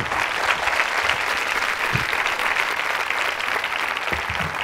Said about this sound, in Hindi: तालियां जोरों से बजाइए सेजल जी के